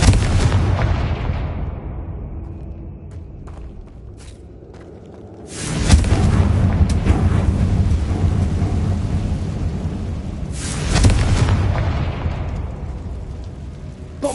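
Confringo fire spells blasting in Hogwarts Legacy: a loud, roaring explosive rumble sustained throughout, with two fresh sharp blasts landing mid-way and near the end, thunder-like and close, with no talking.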